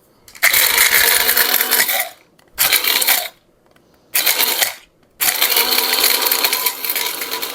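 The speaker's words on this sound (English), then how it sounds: "Oh, it's actually grinding it up." An electric grinder processes whole spices for a homemade spice mix in four loud, close bursts of whirring, rattling grinding, separated by short silent pauses, with no speech.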